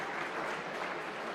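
Audience applause at an annual membership awards ceremony, a faint, continuous patter of many hands clapping heard at a distance.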